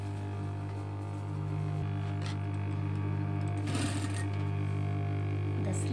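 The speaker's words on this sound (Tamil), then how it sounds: "போட்டு அப்புறம் ஸ்லிட்டு தைக்கணும்" A sewing machine stitches the slit of a crop top, its motor a steady droning hum throughout, with a brief rattling burst of mechanism noise near the middle.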